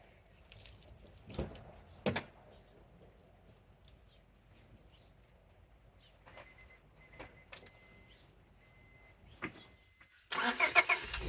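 Keys jingle faintly in a quiet car. Then the engine, running on an XS Power SB75-5 capacitor and a NOCO NLP9 lithium battery in place of a lead-acid battery, cranks and fires loudly in a sudden burst at the very end.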